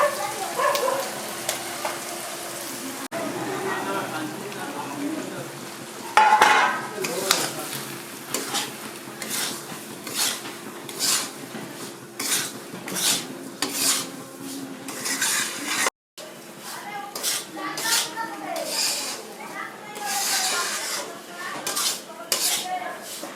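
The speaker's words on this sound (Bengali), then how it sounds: "এরপর আমি দিয়ে দেবো সুজিটা" Semolina stirred in a hot pan for upma, repeated scraping and clinking of a spoon against metal over a continuous sizzle, close and busy, with occasional faint background sounds.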